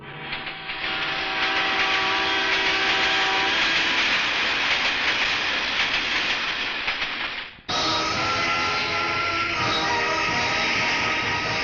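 A train rolls loudly and steadily with hissing, rumbling wheel noise and a sustained whistle-like tone, cutting briefly before resuming, with no voices.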